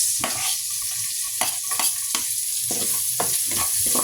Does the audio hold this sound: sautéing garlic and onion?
yes